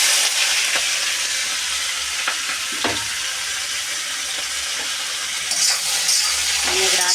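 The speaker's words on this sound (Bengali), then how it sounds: "ওখানে এটা ভাজতে দিয়ে দেবো।" Potatoes with green chilli and nigella seeds frying in hot oil, a steady broadband sizzle that runs close and continuous, with a few faint clinks and stirring sounds on top.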